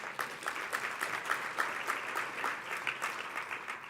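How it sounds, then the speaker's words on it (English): An audience at a conference keynote claps steadily for several seconds, a dense crowd of hands at moderate distance with no voices standing out. "give yourselves a round of applause"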